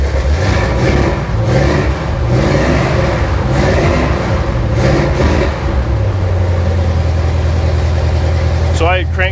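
A 1947 Chevy engine, newly revived after ignition and fuel system work, runs loudly with repeated throttle revs rising and falling, then settles to a lower steady idle; a person talks over it in places.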